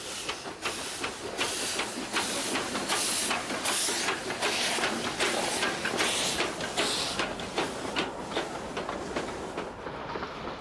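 A small narrow-gauge steam locomotive, built in Glasgow before the First World War, works a rural line in West Bengal, its exhaust wheezing in a steady rhythm of hissing chuffs, about two per second, close by and continuous.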